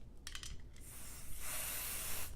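Aerosol spray adhesive hisses onto a sewing and machine embroidery project in two close bursts, a short one followed by a longer, steady broadband spray with no talking.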